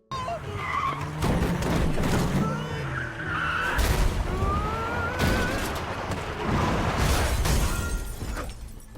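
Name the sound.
vehicle crash in film Train to Busan: Peninsula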